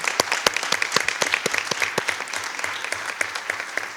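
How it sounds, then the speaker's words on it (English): A crowd claps steadily and enthusiastically at a school board meeting, a dense patter of many hands filling the room throughout. "Let's give him another round of applause, and Ms. Nia."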